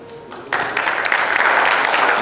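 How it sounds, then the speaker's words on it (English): Audience at a packaging institute foundation day MOU signing ceremony breaking into loud, sustained applause that starts abruptly and holds steady, dense clapping filling the hall. "A big round of applause for NIFTEM Tanjavur."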